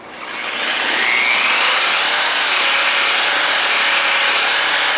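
A buffing machine polishes old car paint with a loud, continuous whirring grind that swells in over the first second and then holds steady, close up, with no voices.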